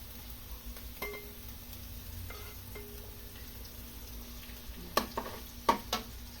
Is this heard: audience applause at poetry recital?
no